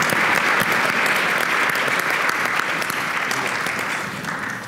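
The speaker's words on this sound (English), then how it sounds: "Let's just give Monica a quick round of applause" A keynote lunch audience at a State of Reform conference gives a steady, dense round of applause that holds loud and close throughout, tapering slightly near the end.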